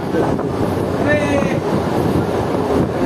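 Katwa-Rampurhat MEMU passenger train running near Lahapur station, a steady rumbling roar of wheels and carriage with wind buffeting throughout, with a faint squeal partway through.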